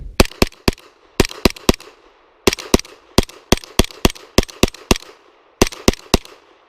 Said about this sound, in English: that felt like a double that fired twice on one single trigger pull